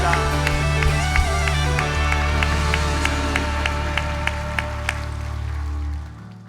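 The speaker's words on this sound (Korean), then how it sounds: "하나님께 영광의 박수 올려드리겠습니다" A church congregation claps along in a steady rhythm over a sustained, loud keyboard chord, the claps evenly spaced until the music fades out.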